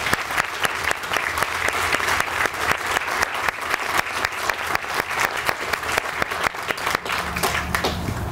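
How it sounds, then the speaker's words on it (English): Audience applause at a college athletic complex ribbon-cutting, sustained crisp clapping from a sizable crowd that keeps a steady rhythm throughout, fairly close, with brief voices underneath toward the end. "So now you can really applaud for them."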